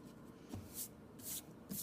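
Eraser rubbing on drawing paper while sketching in two-point perspective, three short soft scrubbing bursts spaced apart, faint and close, with quiet room noise between them.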